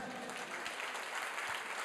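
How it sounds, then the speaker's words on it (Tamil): A church congregation claps their hands together during a Sunday worship service, a soft, even patter of many hands held at a low, distant level throughout. "கைத்தட்டியும் சொல்லுங்களேன்"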